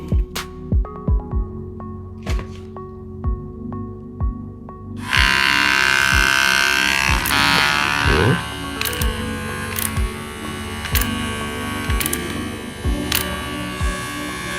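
VGR V115/V931 electric trimmer buzzing steadily at normal speed, a close, continuous motor drone that switches on after a run of sharp clicks and handling taps.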